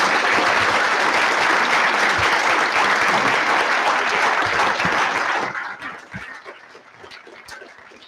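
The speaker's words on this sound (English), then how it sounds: "If you all give them a round of applause." A school board meeting audience applauds students with dense, sustained clapping that fills the room for about five seconds, then thins quickly to scattered claps and quiet murmur.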